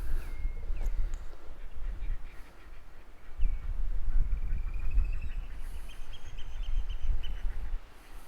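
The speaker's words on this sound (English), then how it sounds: "There's all sorts of birds making noises and lots going on" Several birds call over a low outdoor rumble of wind on the seaside cliffs at Hunstanton, West Norfolk, including quacking and cawing, with occasional higher chirps scattered throughout.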